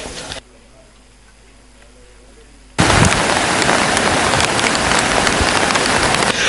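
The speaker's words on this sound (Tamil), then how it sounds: "இன்று அதிகாலை முதல் பெய்து வரும் அதிக மழை காரணமாக" Heavy rain pours down during flooding in Sri Lanka's Puwakpitiya area, a loud, dense hiss that cuts in sharply after a quieter opening stretch and continues steadily to the end.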